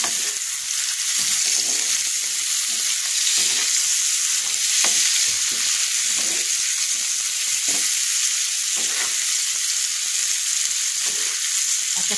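Onion fries in a pan with a constant, loud hissing sizzle, broken by frequent stirring scrapes in an irregular rhythm, with no one talking.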